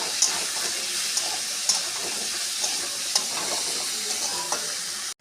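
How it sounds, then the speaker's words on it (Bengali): Pumpkin with turmeric, masoor dal and salt being fried and stirred in a pan, a steady sizzle with a few sharp scraping clicks of the spoon, close and alone with no talk. "এটা ভালো করে ভেজে নেব"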